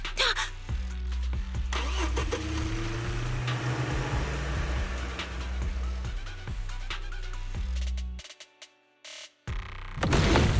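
A truck engine starts and drives in a Zenless Zone Zero action scene. A loud, steady motor rumble runs under layered game effects and music, then cuts out near the end before a sharp burst returns.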